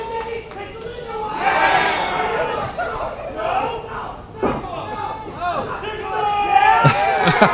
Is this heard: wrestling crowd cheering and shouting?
yes